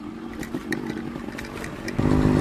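A Yamaha RX100 two-stroke motorcycle being ridden, its engine droning steadily up close with a rise in intensity near the end as it accelerates.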